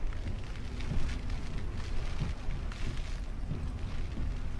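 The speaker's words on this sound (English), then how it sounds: "Every time I open this window I get pelted with rain" Heavy rain lashes down during Hurricane Harvey in Texas, a dense continuous roar of wind-driven water close by, with no voices.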